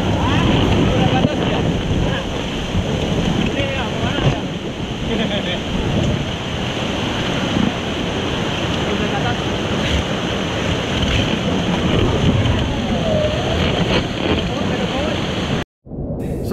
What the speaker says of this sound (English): Now this rapid, called the Second Canyon, was the largest rapids on the trail